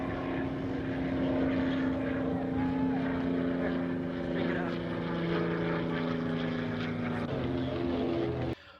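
A heavily loaded Mooney propeller airplane at EAA AirVenture Oshkosh drones steadily with a strong, even engine tone, while voices talk over it before the sound cuts off near the end.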